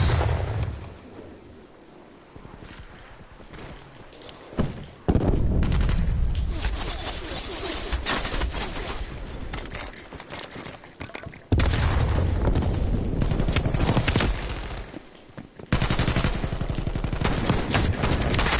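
Rapid, heavy Spaz 12 shotgun fire in the video game Black Ops Cold War, loud bursts of booming shots in quick succession, broken by brief pauses between volleys.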